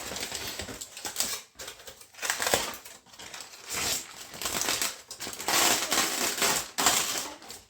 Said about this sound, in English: now it's time to unwrap them and check them and slice them and start eating